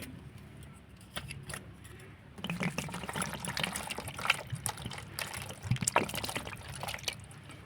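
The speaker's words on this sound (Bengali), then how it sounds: "এবার আমি ধুয়ে নেব তালটাকে" A ripe, slightly cracked palm fruit being washed by hand in water, with splashing, sloshing and trickling that grows busier partway through, close and continuous.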